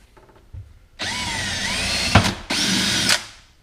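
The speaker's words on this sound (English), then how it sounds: "now we're just going to run a 3/16 pilot hole through here" A power drill bores a 3/16 pilot hole during installation of a dual battery kit on a Polaris RZR 1000, whining loudly in two close bursts with a brief pause between them.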